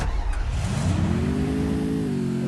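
A motorbike engine in the video game Free Fire revs up steadily, its pitch climbing smoothly over a couple of seconds, loud and close with no voices.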